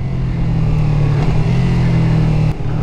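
A Ferrari's engine roars loud and steady as it passes close by, a continuous low, throaty drone with no voices over it.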